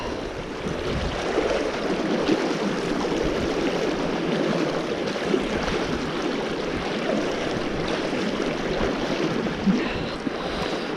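A river flows steadily nearby at Cooleman, NSW, a continuous broadband rush of moving water, even and unbroken, with faint rustling of a hiker pushing through bush.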